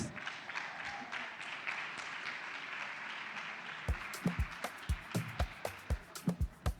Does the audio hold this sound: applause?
yes